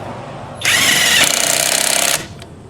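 An ALLOYMAN 1/2 inch drive cordless impact wrench run at its lowest speed, a loud close burst of whirring that turns into rapid hammering for about a second and a half.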